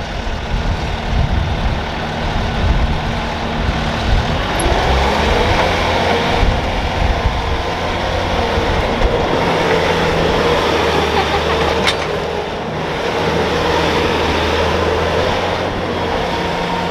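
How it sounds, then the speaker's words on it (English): A Bobcat skid steer is maneuvered onto a trailer behind a 7.3 diesel truck, its engine giving a continuous loud rumbling drone with clanks and shifts in tone throughout. "I'm gonna swing the Bobcat"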